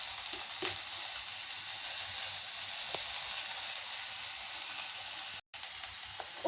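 Ooty beetroot frying in a pan, a constant close sizzle with faint stirring ticks and a brief gap of silence near the end, no talking.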